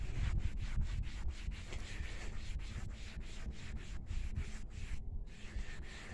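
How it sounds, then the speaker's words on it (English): Faded trim on a Jeep Cherokee Trackhawk being buffed to remove polish, a steady, rough rubbing with rhythmic strokes, close and fairly quiet with no one speaking. "All right, so let's buff that back off. We just use that polish to kind of smooth it out here."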